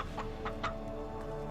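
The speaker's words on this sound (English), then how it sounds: "My net caught the chicken!" A chicken clucks in a few short, soft bursts, fairly quiet against a steady background hum.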